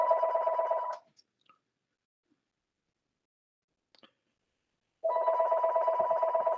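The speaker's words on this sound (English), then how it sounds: "Is that your phone ringing in your background?" A telephone rings in the background during a public hearing call, two bursts of an electronic warble with near silence between them and no talk over it.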